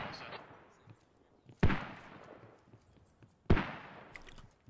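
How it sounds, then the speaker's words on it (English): Two heavy mortar shell impacts in the video game Squad, each a sharp, loud boom with a long rumbling tail, spaced about two seconds apart and mostly alone with only faint background noise. "Here comes the mortars."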